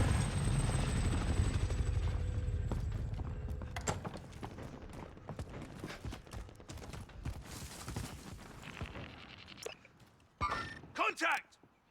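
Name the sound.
attack helicopter in Call of Duty Plunder video game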